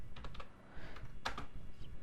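Keys clatter in quick, uneven taps on a computer keyboard as a terminal command is entered, close and fairly quiet, with no voice.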